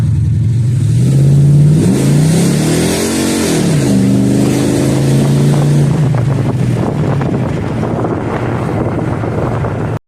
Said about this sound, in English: I'm going to do a little acceleration pull